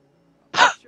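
A character in the game Fallout 76 lets out a single short, sharp sneeze, a sudden close burst after near silence.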